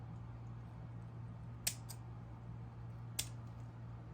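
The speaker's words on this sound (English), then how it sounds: "I'll take my craft scissors and trim them." Craft scissors snip to trim strips of paper for a Dollar Tree witch plaque project. Two or three brief, crisp snips are heard, up close, over a quiet room with a low steady hum.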